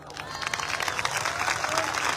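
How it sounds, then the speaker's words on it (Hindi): Audience at a packed AWPL direct-selling rally in Kanpur claps and cheers, a dense, continuous wash of applause and crowd noise that stays steady throughout, with no voices standing out above it. "आप ताली बजा रहे हैं, हल्ला मचा रहे हैं"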